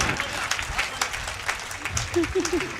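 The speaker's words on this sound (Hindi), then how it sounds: "ताली वाली बजा दो यार बात में" Scattered audience clapping at a Hindi kavi sammelan, moderately loud bursts over a murmur, with a voice speaking at times and a brief tonal vocal sound near the end.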